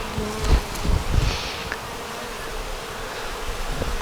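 Honeybees drone around a hive frame in a steady, close buzz, with a few soft knocks and handling bumps near the start.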